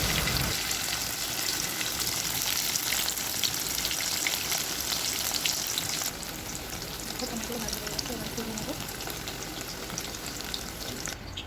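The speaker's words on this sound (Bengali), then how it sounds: "কড়াই গরম করে তারপরে পনিরগুলো দিয়ে ভেজে নিয়েছি" Paneer pieces frying in white oil in a hot wok give a steady, close sizzle with faint bubbling, slightly softer after a brief drop in level midway, heard alone.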